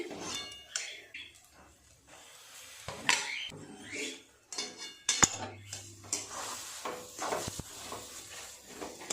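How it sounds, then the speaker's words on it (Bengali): Egg devil filling being stirred in a pan, with a spoon scraping and clinking against the metal in steady irregular strokes. Close and fairly quiet, with occasional louder clanks and no talk. "পুরটা কিন্তু এইভাবে সমানে নাড়তে হবে, নেড়ে নেড়ে আর একটু শুকনো করে নিতে হবে"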